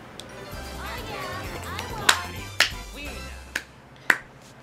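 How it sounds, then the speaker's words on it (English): Waluigi claps in the video game Mario Party 7, giving four sharp, snappy claps at uneven intervals over busy game music and voice sounds. "That was a meaty clap"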